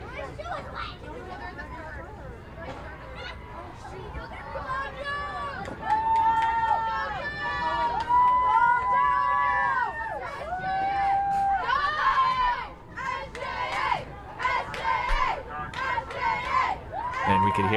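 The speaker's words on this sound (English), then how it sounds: "we can hear St. Joseph's Academy really cheering on their crew" A crowd from St. Joseph's Academy cheers and shouts for its rowing crew at a scholastic championship regatta, voices rising into loud, sustained yelling and whoops that grow nearer, with a commentator talking over it.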